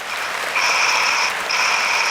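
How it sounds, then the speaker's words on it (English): Steady audience applause fills a podcast studio, a continuous wash of clapping that swells slightly midway and holds without speech. "Can we get some applause for that?"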